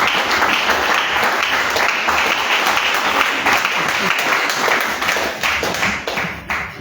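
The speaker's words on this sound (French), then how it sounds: "On acclame le Seigneur jusqu'à ce qu'il soit ici." Congregation applauding to acclaim the Lord at a New Year's Eve church vigil: dense, sustained clapping from a crowd filling the room, with a rhythmic tapping beat in it and voices underneath, tapering slightly at the end.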